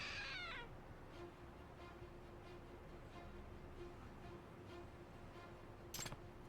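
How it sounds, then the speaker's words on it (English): A trick statue in the video game Lost Judgment gives one short, bright cat meow at the start, then quiet ambience follows, ending in a brief sharp click. "It meowed. So it's a trick statue?"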